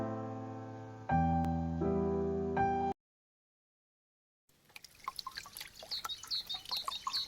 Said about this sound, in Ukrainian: Ой, що це так весело капає? Так, та це ж бурульки розстають.